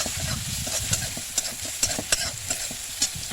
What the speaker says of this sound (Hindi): मसाले को अच्छी तरह से भून लेना है।